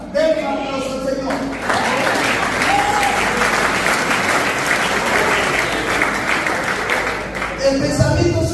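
Sustained applause from a church congregation, a dense wash of many hands clapping for several seconds, loud and even, with voices briefly heard at the start and end.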